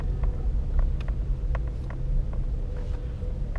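A 2007 Renault Mégane 1.6 16V with a four-speed automatic gearbox rumbles along from inside the cabin, a steady low engine and road drone with faint clicks and knocks scattered over it.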